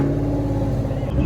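Ford Mustang Mach 1 engine with an H-pipe exhaust, idling in a loud, steady, rumbling burble at close range for a brief moment.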